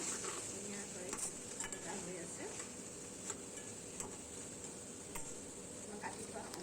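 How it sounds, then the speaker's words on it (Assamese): Mutton curry fries in a pan while being stirred, a faint, steady sizzle broken by light scrapes and occasional clicks of the spoon against the pan. "আকৌ লৰাই চৰাই মই ভাজি আছোঁ।"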